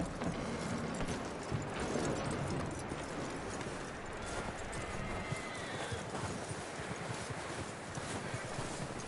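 Steady horse hoofbeats clopping along with a whinny, over wind and a dense background rumble, in the video game Red Dead Redemption 2.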